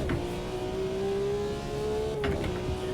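Simulated BMW M1 Procar engine in the Automobilista 2 racing game, loud and steady as it pulls in first gear out of a corner, with a brief shift-like dip and rise near the end and no talking.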